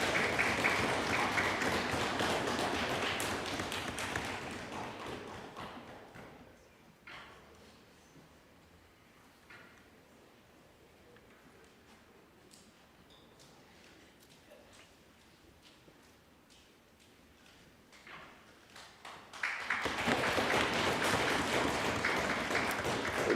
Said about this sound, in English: Let's keep the applause going as he comes.